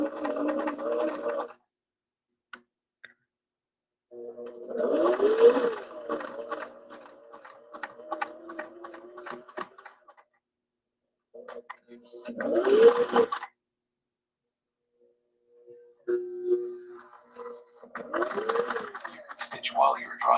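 A sewing machine stitching a top runs in several bursts separated by silences, each a rapid mechanical whir and clatter, with talk mixed in among the stitching.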